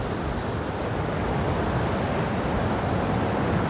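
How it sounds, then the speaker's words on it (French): Steady, dense roar of storm surf breaking continuously on the beach at Pistis, Sardinia, loud and close, with wind rushing over it and no voices. "Regarde ces rouleaux."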